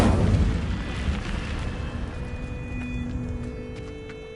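An Incendio fire spell is cast in Hogwarts Legacy, bursting out as a loud booming blast that rolls into a roaring, crackling fire rumble and fades away over a few seconds.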